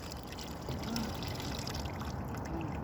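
A puppy drinking water, a faint, continuous wet lapping and trickling that stays soft and even throughout.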